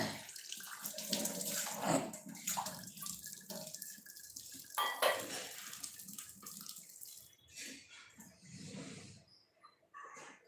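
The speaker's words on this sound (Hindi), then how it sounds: "थोड़ा सा डालते हैं इसमें पानी।" Water poured into a jar while a sweet potato and brinjal curry is being cooked, a loose splashing stream rising and falling in bursts over about ten seconds, close by with some kitchen clatter.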